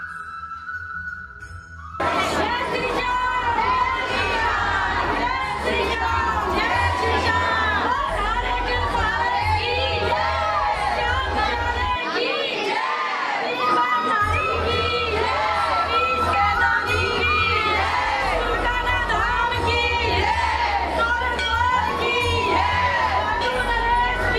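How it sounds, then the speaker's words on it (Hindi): A large, dense crowd of devotees at a Shyam Baba temple in India fills the air with continuous loud shouting, cheering and children's voices, a sustained roar with occasional whoops close by. "अब देखिए कितनी भारी संख्या में लोग यहाँ पर पहुँचे हुए हैं।"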